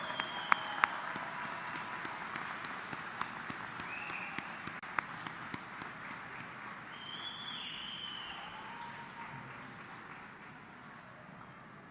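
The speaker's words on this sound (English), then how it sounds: "Applaud them as you stand here ready to graduate." Audience applause at a 2016 osteopathic medicine and graduate biomedical sciences commencement, a steady wash of many hands clapping in a large hall, fairly distant and even throughout, with a few sharper claps standing out early on.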